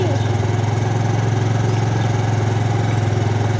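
A motorcycle engine runs steadily at idle nearby, a low pulsing drone that holds even throughout.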